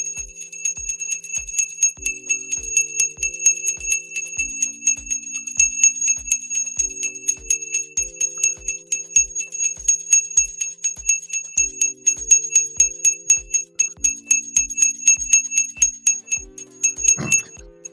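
A bell rings on and off for a long stretch at the market open, with a fast, even train of metallic strikes that carry bright ringing overtones and pause briefly now and then, loud and close.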